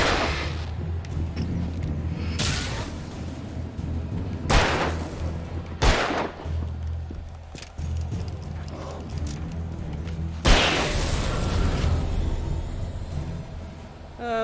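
Several sharp gunshots from the Alan Wake video game ring out at irregular intervals, loud bursts over a steady low rumble of background music and ambience, with no voices.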